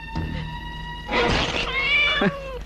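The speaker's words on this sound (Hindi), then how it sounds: "अरे ये तो बिल्ली है, तुम बिल्ली से डर गई?" A cat meows several times indoors, a short cry followed by longer drawn-out wailing meows, fairly close and clear, with a soft thump partway through and no talk.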